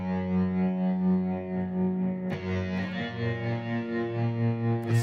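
Electric guitar played through a Diamond effects pedal, a sustained distorted, chorus-warped chord that shifts twice into new droning textures, loud and continuous with no voices.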